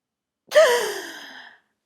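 A single breathy exhalation rushes out at the release of a stomach vacuum abdominal exercise, close and clear, lasting about a second and fading gradually into silence.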